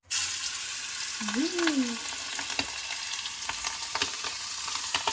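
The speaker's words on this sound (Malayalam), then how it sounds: "ഇനിയിപ്പോൾ നമുക്ക് ചെമ്മീൻ പതിയെ കുറച്ച് കുറച്ചായിട്ട് ഇട്ട് കൊടുക്കാം" Steady, loud sizzling of prawns frying in hot oil fills the whole stretch, with small pops and crackles and a brief voice sound.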